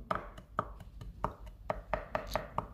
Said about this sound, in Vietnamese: mình cũng băm cho nó hoặc là nhuyễn ra luôn